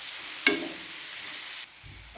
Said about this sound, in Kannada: ಇದನ್ನು 1 ನಿಮಿಷ ಚೆನ್ನಾಗಿ ಫ್ರೈ ಮಾಡೋಣ.